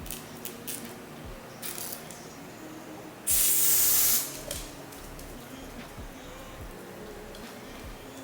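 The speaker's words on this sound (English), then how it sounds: "I'm really focusing more on spraying it towards the edge, like the actual lace" An aerosol spray bursts once onto the lace edge of a wig, a loud hissing blast of about a second amid soft handling clicks and rustles.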